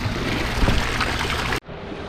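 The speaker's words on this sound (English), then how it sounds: "you basically turn that valve and your waterfalls will turn on" Hydropool swim spa waterfalls running after a valve is opened, a steady close rush of splashing water that cuts off abruptly near the end, leaving a quieter hiss.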